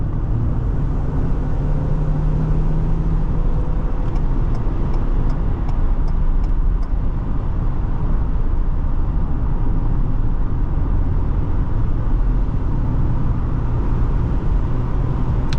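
A 400-horsepower EcoBoost Ford Police Interceptor Utility state police SUV accelerates hard, its engine a loud, steady roar with heavy road and wind noise, continuous throughout and with no talking.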